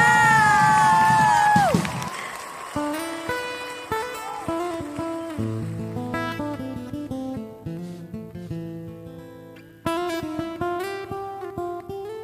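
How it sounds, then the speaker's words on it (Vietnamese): A live crowd cheers and applauds loudly for two child singers on a children's duet singing show stage. The burst lasts about two seconds, then gives way to music. "Xin hãy cho một tràng pháo tay thật lớn cho hai thần đồng âm nhạc"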